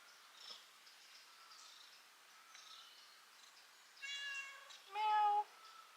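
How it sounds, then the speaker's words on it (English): A cat in a Greek village garden gives a couple of clear meows near the end, the last one louder and more drawn out, over faint outdoor insect and bird sounds. "Cat."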